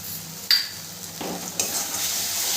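Spice masala with turmeric powder sizzling as it is sautéed in a pan, with quick stirring scrapes and a soft steady hiss, close and fairly quiet.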